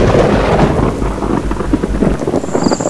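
A thunderstorm rumbles over a Midwest field while heavy rain pours steadily, deep thunder rolling low beneath the dense hiss of falling water.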